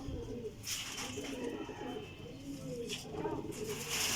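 Pigeons cooing softly at a breeder's loft, with several soft throaty coos rising and falling over a low background murmur, fairly quiet and close.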